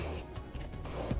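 Short hissing bursts of an airbrush spraying paint onto a foam R/C model airplane, starting and stopping a few times, close and fairly quiet.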